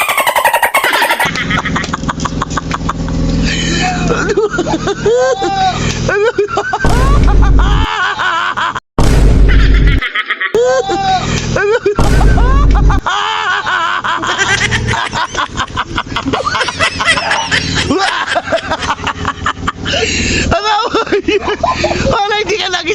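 Several loud firecracker bangs burst out over excited talking and laughter as a typhoon approaches, a few heavy booms spaced several seconds apart.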